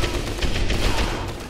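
A burst of rapid gunfire from the World War II shooter Medal of Honor Airborne, a dense fusillade of close shots cracking in quick succession with no talk over it.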